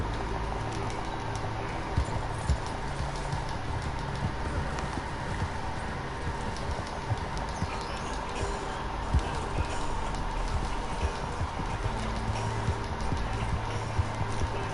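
A horse gallops in Red Dead Redemption Online with continuous rapid hoofbeats, up close and steady, over a dense game soundscape for the whole stretch.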